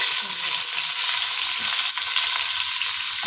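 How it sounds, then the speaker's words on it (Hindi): Half an onion's worth of chopped onion frying in hot oil for bhindi masala, a steady close hiss and crackle that carries on without pause and with no voices. "इस ऑयल के अंदर ना हम इसमें से आधा प्याज डाल देंगे"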